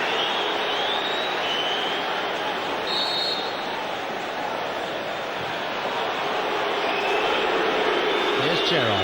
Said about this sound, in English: you can just hear the crowd getting restless